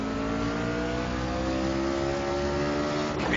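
Race car engines behind a pace car at Charlotte drone steadily at a low, even pitch, a continuous mechanical hum that rises slightly near the end.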